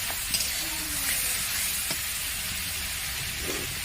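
Mutton coated with chili powder sautéing in a pan for a potato mutton curry: a steady, close sizzle with scattered light scrapes of a spoon stirring, continuous throughout with no talking.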